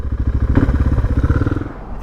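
Motorcycle engine running up close with a pulsing, throbbing idle rumble and some clatter, fading slightly at the end.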